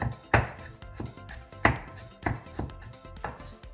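Fresh ginger chopped with a knife on a board, a close run of sharp, irregular knocks, some louder than others, without talk.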